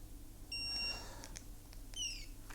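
A satellite transmitter checked for battery power in remote Greenland gives a short electronic beep pattern: two bright tonal chirps about a second apart, close and clear over quiet background hum.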